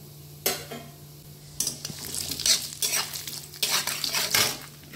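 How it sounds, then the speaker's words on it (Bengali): Cashew nuts frying in hot ghee and white oil in a pan, with a spoon scraping and stirring in bursts over a soft steady sizzle, close and moderately loud. "আমি এতে কাজু বাদামটা ভেজে নেব আগে"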